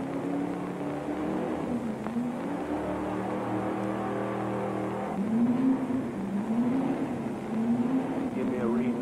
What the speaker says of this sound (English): On the dynamometer, we check the carburation, the fuel mixture, and we know just exactly how the fuel mixture and the burn is on the engine